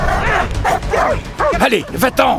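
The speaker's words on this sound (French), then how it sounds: "Le berger allemand de Dean sort et fonce tout droit sur Jeff" A German shepherd attacks a man, barking, yelping and whimpering in close, frantic bursts while someone shouts over it.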